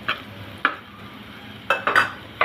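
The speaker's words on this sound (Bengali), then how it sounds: "মশলা দিব আর এইভাবে নাড়তে থাকবো যাতে মশলাটা না পুড়ে যায়" Turmeric and chili powder stirred in a frying pan: a few quiet scraping strokes of a spoon against the pan, spaced irregularly, with a faint background hiss between them.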